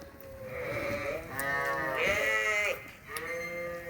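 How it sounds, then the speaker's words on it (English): Sheep on a farm bleat in a few drawn-out, wavering calls, fairly close and clear, with short pauses between them and no talking. "we got some nasty little sheep out here yet that don't want to come in"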